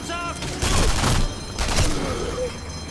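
Gunfire from the sniper shooter Sniper Elite V2, two loud bursts of shots and booming reports about a second apart, with a person talking faintly beneath.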